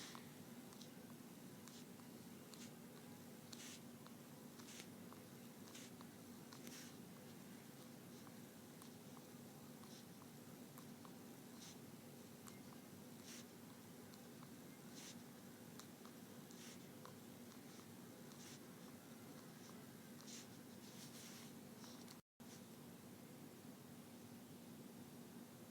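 Marker strokes drawing an array of rows by hand, heard as quiet, steady scratchy squeaks repeating in a regular rhythm over a faint hiss, with no talking.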